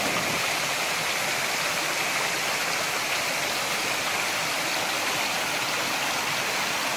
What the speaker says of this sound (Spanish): Mire la quebradita de la propia aquí de la comunidad, cómo está.